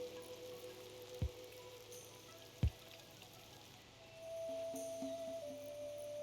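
Steady rain in the RimWorld colony game patters as an even hiss throughout, with a couple of sharp low thumps early on and a faint tonal hum joining near the end.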